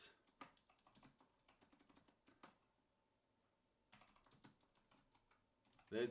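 Quiet, close keyboard typing in quick irregular bursts, a pause of silence, then more rapid keystrokes.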